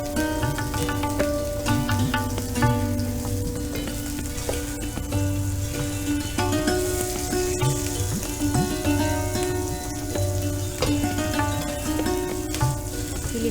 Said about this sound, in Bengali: ইলিশটা দু পিঠই মোটামুটি ভাজা হয়ে গেছে।